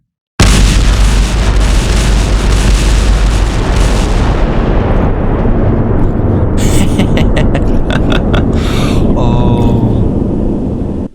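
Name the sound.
explosion of a coded bomb in Minecraft video game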